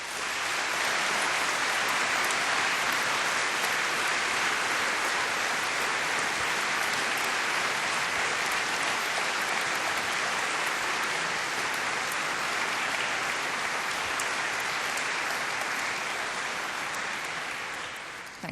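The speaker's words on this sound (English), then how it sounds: "say a special thank you to all of them by giving them a big round of applause" Graduation ceremony crowd at Cardiff University giving a big round of applause, a dense, sustained hall-filling wash of clapping that holds steady for many seconds before easing slightly at the end.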